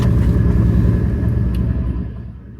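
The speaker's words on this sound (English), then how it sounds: "there's a car coming up right now" A car approaching on a road near a tunnel, its engine rumbling loud and close before fading slightly as it passes.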